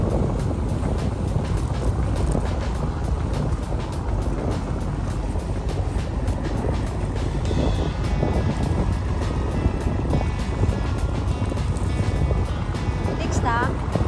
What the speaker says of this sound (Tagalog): ito may dumaan na bangka